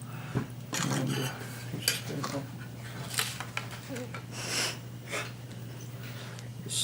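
A metal spoon scraping the last cabbage juice out of a container, giving soft clinks and scrapes close by over a steady low hum, with faint breathing and a voice heard at moments.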